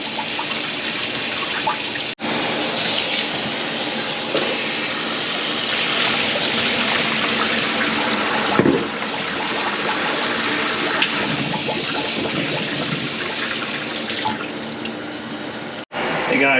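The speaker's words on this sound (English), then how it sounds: "Trying to get all this ice out. Keep rinsing those really well." Tap water runs steadily over pickles in a sink to rinse away ice, a loud, continuous splashing hiss broken by a few brief pauses.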